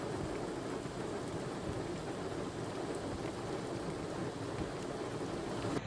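Heavy monsoon rain pours over Valsad city in Gujarat, around four inches in two hours flooding streets, making a dense, unbroken hiss that stays steady throughout.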